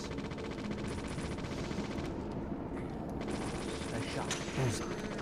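Gunshots from the video game Deadly Premonition sound in a steady rattle of rapid reports over game noise, fairly even in loudness across the whole stretch, with a voice talking over it.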